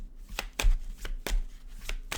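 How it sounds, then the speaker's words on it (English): Tarot cards are shuffled by hand in a quick series of crisp riffling slaps, about eight close, dry taps and rustles at an uneven rhythm. "We're going to shuffle."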